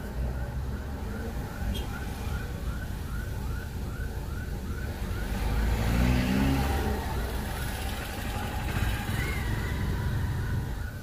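Steady traffic rumble from cars passing on the Presidente Tancredo Neves highway in Franco da Rocha, with engine swells rising and fading under a continuous roadside wash.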